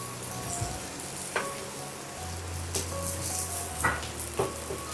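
A pan of rice cake batter made from raw ration rice is stirred continuously, with soft sizzling and a few sharp clinks and scrapes of the spoon against the pan, and no talking.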